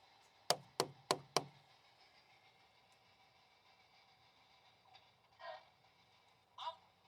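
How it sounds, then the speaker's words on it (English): Four sharp knocks on a surface at a cemetery come in a quick, even series, loud and close, followed by quiet background hum and a couple of softer muffled bumps. "Here, I'll knock first again."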